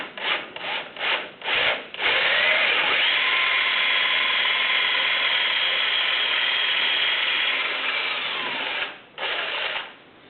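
A drill boring a balance weight hole into a wooden propeller hub, opening with a few short bursts, then one long steady grinding whine of about seven seconds, followed by a final brief burst, all close up.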